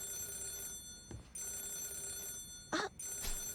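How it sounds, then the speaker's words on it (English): A telephone rings inside the video game Yakuza 0, giving a few bright electronic ring bursts over steady background game music and ambience, with no voices. "Could you get the phone?"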